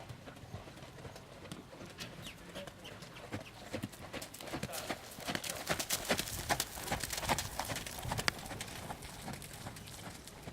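Horse hooves clip-clopping in a steady walking rhythm, growing louder as they approach, with people talking in the background.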